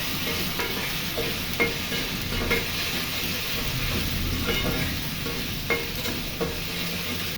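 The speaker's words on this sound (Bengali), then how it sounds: "১ টেবিল চামচ পেঁয়াজ ও আদা বাটা দিয়ে ৫-৭টি কাঁচামরিচ ফালি দিয়ে ২-৩ মিনিটের জন্য নেড়ে চেড়ে" Onion-ginger paste and sliced green chillies are stirred in oil in a pan: a close, steady sizzle broken by periodic scrapes and knocks of the spatula against the pan, with no talking.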